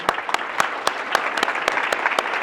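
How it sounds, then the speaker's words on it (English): A crowd claps steadily, with sharp individual claps standing out over a continuous patter of applause. "So just a big applause for Luca."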